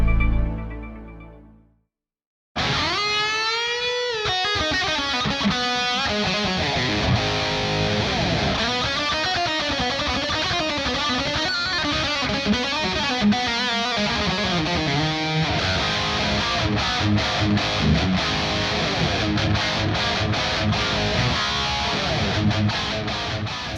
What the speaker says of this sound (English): So that was the sound of the guitar through the Friedman BE Deluxe module